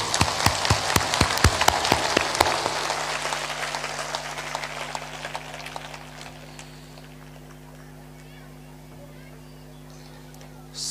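An audience at a spiritual discourse claps with raised hands, a dense burst of applause that thins out and fades into faint room hum, with a voice speaking over it.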